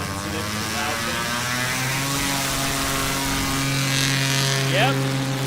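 STOL propeller aircraft taking off at the Music City STOL 2025 event in Gallatin, Tennessee, a loud, buzzing engine drone with strong harmonic whine rising in pitch near the end, up close, with people talking over it.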